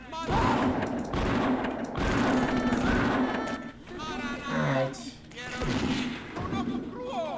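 Repeated gunfire from shooting cultists in the video game Blood: Fresh Supply, loud bursts in rapid, uneven succession, mixed with someone talking throughout.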